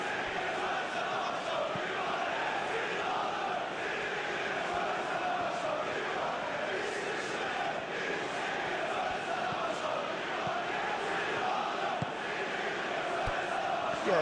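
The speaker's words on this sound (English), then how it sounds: "Yeah, the crowd have tried to spark some excitement, but to no avail." Stadium crowd noise from the PES 2021 football video game, a dense continuous roar of chanting and murmuring that holds at a steady level throughout.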